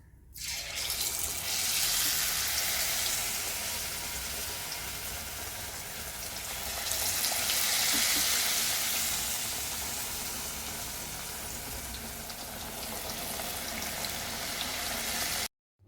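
Brinjal bajji slices frying in hot oil give a steady, close, hissing sizzle with no pause, swelling louder around the middle and again near the end, with no voices.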